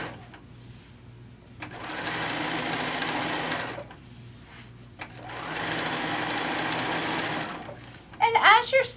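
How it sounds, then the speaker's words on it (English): A sewing machine stitches down a quilt seam in two long, steady whirring runs separated by a short pause, fairly close, with a brief rustle at the end. "4 little baby stitches, and then off we go down the seam."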